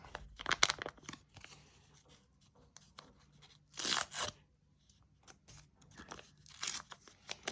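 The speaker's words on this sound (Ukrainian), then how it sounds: "Відкриваємо червоний пакетик." Crinkling and tearing of a red paper surprise packet being opened close up, in several bursts separated by short pauses, with no talking.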